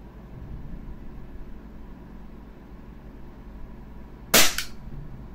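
A single sharp, loud shot from an Umarex Glock 17 Gen 5 airsoft pistol cracks out alone after a few seconds of quiet room hiss.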